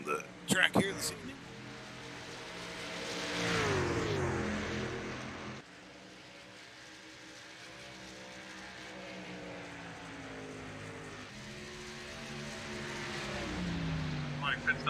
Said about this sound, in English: As we continue to watch the trucks go around the track here this evening.